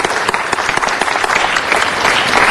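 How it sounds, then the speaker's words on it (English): Loud, dense audience applause greeting an actress introduced at a city council meeting, steady clapping filling the short stretch with no talk. "Let's give her a big round of applause."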